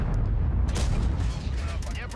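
A tank cannon fires in the New Order of War video game, with a Jagdpanzer in the fight. Heavy booming blasts land over a constant low battle rumble, with a sharp burst near the start and another toward the end.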